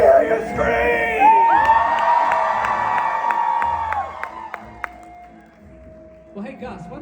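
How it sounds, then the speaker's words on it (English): A crowd at a Knott's Scary Farm convention panel during Midsummer Scream screams and whoops loudly for several seconds, the cheering fading out before a voice speaks. "Let me hear you scream!"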